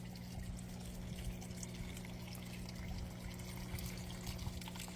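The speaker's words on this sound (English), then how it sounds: "this is where the water comes in to the large grow bed" Water runs steadily into a large outdoor aquaponics grow bed, a continuous close pour and trickle with no voices.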